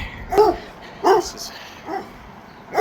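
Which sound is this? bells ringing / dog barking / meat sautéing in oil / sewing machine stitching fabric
dog barking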